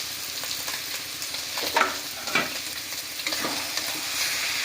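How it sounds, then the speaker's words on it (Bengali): Pre-fried young jackfruit (echor) stir-fried with spices in a pan, a constant close sizzle broken by several scraping stir strokes, no voices. "এবার আমরা ভেজে রাখা কাঁঠাল এঁচড়টা দিয়ে দিলাম, দিয়ে বেশ কিছুক্ষণ আরও আমরা কষিয়ে নেব।"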